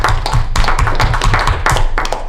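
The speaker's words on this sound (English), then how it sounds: "Round of applause for Lindsay." A small group at a club meeting claps in a brief round of applause, close and loud, with individual hand claps distinct and uneven rather than a dense roar.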